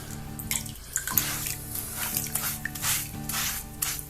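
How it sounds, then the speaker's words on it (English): A cloth is soaked in clean water while overhauling Freeline skates, giving close, wet splashing and sloshing with squishy drips in short irregular bursts. "I'm going to soak my cloth in the clean water and just give it a gentle wipe"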